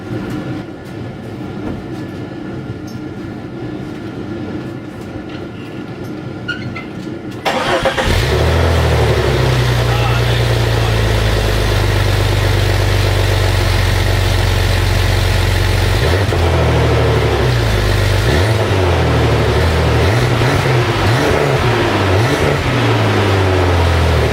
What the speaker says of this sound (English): we are going to start the Jeep up and let you hear what the exhaust sounds like